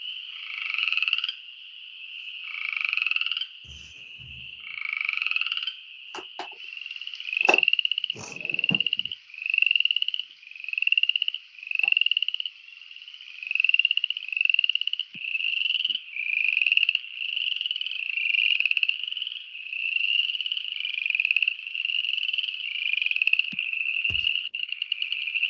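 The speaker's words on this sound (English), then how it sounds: "They changed it back to upland chorus frog because that was too confusing with southern chorus frog" Upland chorus frogs call in a chorus, a steady series of rising creaking trills repeated roughly every second, loud and continuous for the whole stretch, with a few faint knocks and thumps underneath.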